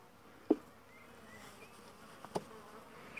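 Honey bees at an open hive during weak-colony care, a faint buzzing with a couple of brief nearby knocks from handling the frames.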